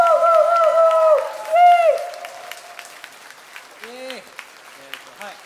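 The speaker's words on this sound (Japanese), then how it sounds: "では大きな拍手で迎えてください。" Applause and cheering from a concert audience at a rock band's live tour show, a crowd roar under a loud, excited voice, then a spoken voice as the clapping fades to a softer patter.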